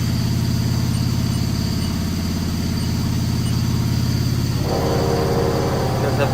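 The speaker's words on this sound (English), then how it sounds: "does have the chip auger is running" A steady low mechanical drone from the chip auger running on a Haas VF-3SS vertical machining center, with a continuous motor hum that holds level throughout and a slight brightening in the noise toward the end.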